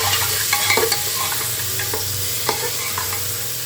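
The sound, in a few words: vegetables sizzling and crackling in a pan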